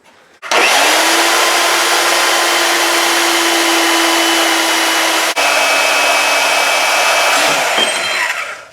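Power tool cutting through a section of steering shaft during a DIY steering install: a loud, steady high-pitched whine with harsh broadband grinding that runs continuously for about eight seconds, briefly dipping midway, then winding down.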